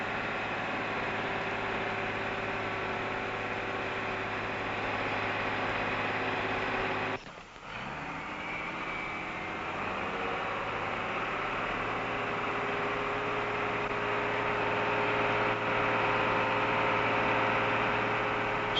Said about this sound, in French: Grâce à un treuil à chaîne hydraulique, le chargement ne pose ici non plus aucun problème.